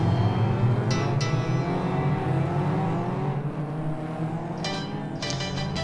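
Stock rod race cars rumble and drone steadily at the start of a championship race, a dense continuous engine roar with brief higher whines rising over it.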